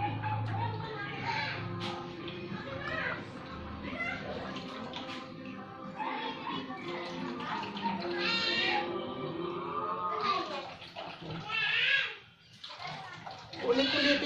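Weak running water trickles and splashes while santol fruit is washed by hand, a thin uneven flow with sloshing, heard under steady talking throughout.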